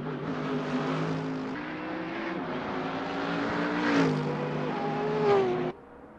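A Mercedes race car engine in the Assetto Corsa racing game gives a deep, steady drone with harmonic bands. Pitch rises and falls as the car accelerates, and the engine stays loud until it cuts off abruptly near the end.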